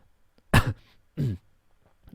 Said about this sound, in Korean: 큼큼하는 헛기침을 몇 번 반복하며 목을 가다듬고는